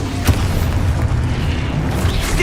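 Confringo fire spell blasting in Hogwarts Legacy, a dense booming explosion that stays loud and full through the whole moment, with a sharp burst near the start.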